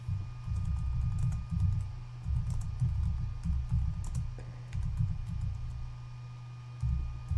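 Steady typing on a computer keyboard while entering a short page description, a dense run of close, fast key clicks with a brief pause near the end before the tapping resumes.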